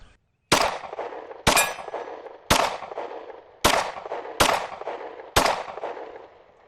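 A Ruger 9E 9mm pistol fires six sharp shots at an outdoor range, spaced about a second apart. Each crack is loud and close, and a ringing metallic decay follows it.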